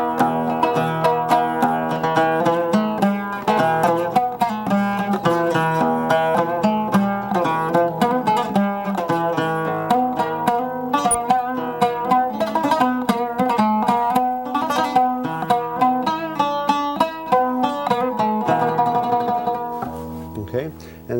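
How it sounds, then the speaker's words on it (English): An oud plays in a Balkan 5/4 rhythm, a steady stream of plucked, ringing notes and chords that carries on loud and unbroken throughout, with no voice over it. "And 5/4 sounds like this:"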